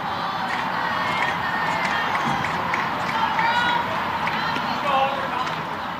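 Indiana Little League softball players cheer and shout from the dugout during a 9-0 tournament game, a steady mix of excited young voices and crowd noise running loud throughout.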